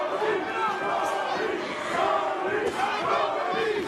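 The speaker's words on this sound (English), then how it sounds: "The crowd chanting, Tony!" A crowd at a boxing match chants a fighter's name in steady rhythmic waves, loud and continuous, with the voices blending into a dense roar.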